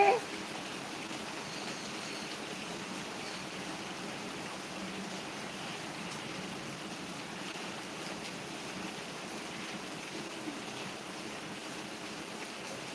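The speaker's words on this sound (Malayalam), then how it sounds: "വേനൽ മഴ നല്ല സൂപ്പർ സൂപ്പർ മഴ പതുക്കെ പതുക്കെ നിന്ന് പെയ്യുന്ന മഴ" Gentle summer rain falls in a steady, even hiss that carries on unbroken at a moderate, constant level for the whole stretch.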